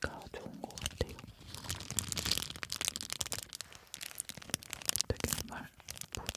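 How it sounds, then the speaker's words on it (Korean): Very soft, pliable vinyl plastic is crinkled and rubbed close to the microphone in irregular bursts, with soft whispering breathy sounds mixed in. "이 비닐 자체가 엄청 부드럽고 말랑말랑해서 소리가 좋은 것 같아요."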